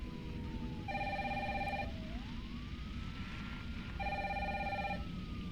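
A telephone rings in the Resident Evil 3 Remake game, two bursts of a bright electronic trill about three seconds apart, heard alone over a low ambient game drone with a faint rising tone gliding underneath.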